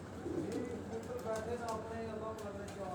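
A black-faced pigeon coos on a rooftop in Rawat, soft low calls murmuring beneath someone talking, with steady background noise throughout.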